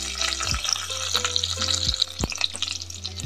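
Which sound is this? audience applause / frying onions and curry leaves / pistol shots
frying onions and curry leaves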